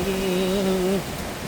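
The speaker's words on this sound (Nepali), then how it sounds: "झरनाको चिसो पानी" Cold water of a waterfall rushes in a steady, loud broadband roar, with a sustained tonal hum over it for the first second before the water continues alone.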